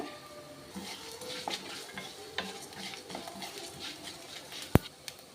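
Whole cloves, cinnamon and cardamom are stirred in a pan with soft scraping and gentle sizzling, quiet and close, with one sharp clink of utensil on metal near the end.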